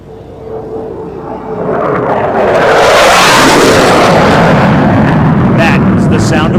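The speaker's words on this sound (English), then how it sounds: "your United States Air Force F-15 Eagle." A US Air Force F-15 Eagle fighter jet makes a fast low flyby at an air show demonstration, jet roar swelling from a distant whine into a loud, sustained rumbling blast.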